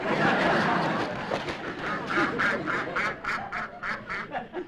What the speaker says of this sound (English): Martha, the duck.